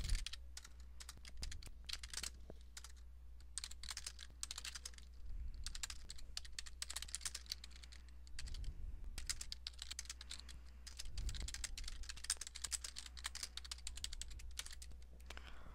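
Steady typing on a computer keyboard while writing an email reply, with rapid clustered keystrokes and short pauses, close and moderately quiet, no talk.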